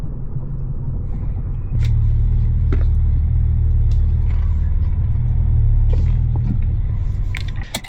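A Cadillac CT4-V Blackwing's engine pulls hard on a backroad, a deep steady rumble that swells louder partway through and holds under acceleration, heard from inside the car with no talk.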